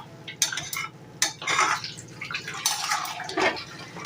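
Mango and jaggery pickle is stirred in a pan, giving wet, sticky scraping and soft clinks of the spoon against the metal in uneven strokes, close up and fairly quiet.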